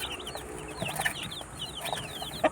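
Young chicks peep continuously in a lively, overlapping chorus at moderate distance, bright chirps repeating every moment while a few louder calls and a sharp knock stand out near the end.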